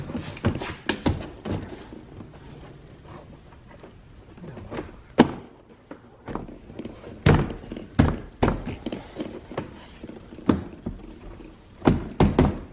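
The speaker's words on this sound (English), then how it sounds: "Just work your way around, pushing all the clips." Plastic trim clips on a Mercedes-Benz door panel snap into place with a series of sharp, close thunks and knocks, irregularly spaced and loud, with soft handling rustle between them.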